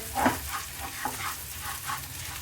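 Ground edible gum frying lightly in desi ghee gives a soft sizzle with a few stirring scrapes, close and steady.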